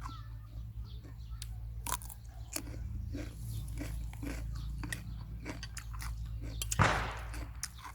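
Someone eats a spicy Thai salad of young neem shoots with minced pork, giving repeated close, crunchy bites and chewing over a steady low background hum.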